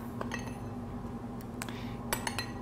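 A spoon clinks against a glass while hot chocolate cocoa powder is spooned in, a few light taps and chinks spread over a quiet background, with no voices.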